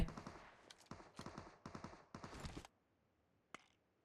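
Gunfire in the PUBG Mobile video game: four quick bursts of automatic fire in rapid succession, fairly close, then a gap and one last isolated shot.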